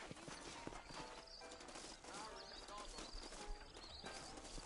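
Saddled horses trotting with steady clip-clop hoofbeats in the Red Dead Redemption game, faint and continuous under a low bed of ambient and mechanical rattle, with occasional voice-like sounds mixed in.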